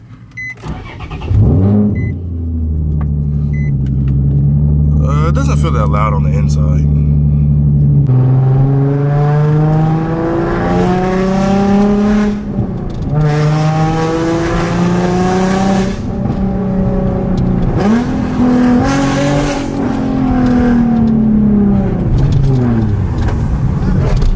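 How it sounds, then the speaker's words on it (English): A Nissan 350Z engine with a Tomei aftermarket exhaust cranks and fires up, then idles and revs in rising surges with a deep, raspy exhaust tone, close and loud throughout. "This is gonna be the first start in the car since after the last clip."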